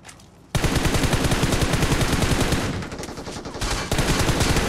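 Sustained automatic gunfire in the PUBG video game, a rapid unbroken stream of shots lasting several seconds with a brief dip partway through, loud and close with no talking over it.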